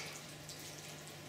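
Water is poured onto coconut coir soil in a pot, a steady soft trickling and hiss, faint and continuous throughout.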